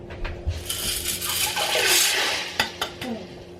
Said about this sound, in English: just put them in a colander, rinse them under the water, and then dump them in the pot